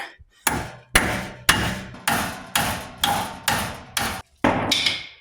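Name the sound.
hammering bolt out of Hummer H3 front axle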